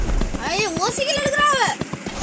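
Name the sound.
horse galloping in a video game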